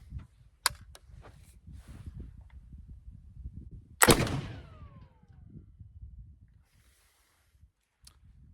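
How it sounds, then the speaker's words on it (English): Single gunshot firing a buckshot paper cartridge at an outdoor range, a loud sharp blast with a ringing decay, preceded and followed by quiet rustling and faint clicks. "All right, 4th shot."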